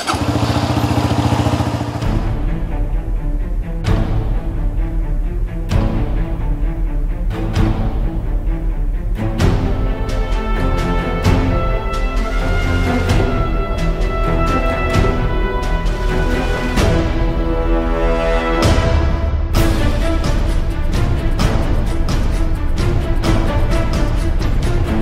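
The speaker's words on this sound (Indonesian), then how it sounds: "gak lama-lama kita akan coba jalan pakai motor ini" An overbored Suzuki Bandit 150 DOHC motorcycle engine fires up and pulls away, revving loud and close through repeated rises and drops as it shifts gears, with no talking.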